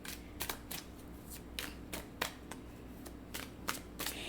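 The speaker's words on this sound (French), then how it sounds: "je vais aller chercher juste une autre carte" Tarot cards shuffled and handled in a series of quick, crisp flicks and riffles over a steady low hum, close and moderately quiet, with no talking.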